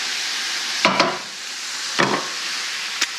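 Food browns and sizzles in a cast iron pan for a tamale pie, a steady hiss broken by a few louder bursts of stirring or scraping, close by with no talking.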